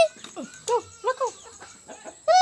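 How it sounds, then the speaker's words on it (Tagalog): A chicken clucking close by in a quick run of short, nasal calls, loud and clear against a quiet background, with a louder squawk at the end. "Hala, may manok."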